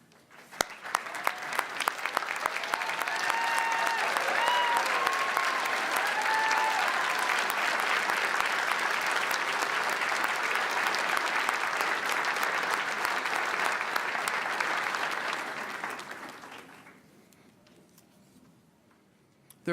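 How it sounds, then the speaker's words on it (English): A commencement audience at Saint Mary's University of Minnesota gives the standing faculty and advisors a long, dense round of applause that holds steady for about fifteen seconds and then fades into a quiet room. "so that we may all honor you with our applause"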